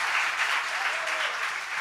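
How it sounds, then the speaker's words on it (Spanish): An awards-ceremony audience gives a brief round of applause for an honoree, a dense, even burst of clapping from a crowd, steady and moderately loud throughout. "un aplauso para él, por favor"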